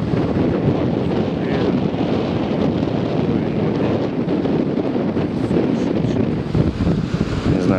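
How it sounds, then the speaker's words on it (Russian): Strong wind roars steadily and loudly across Lake Ontario in a storm, buffeting the microphone, with rushing water beneath and no pauses throughout. "Вот такая буря на озере Онтарио."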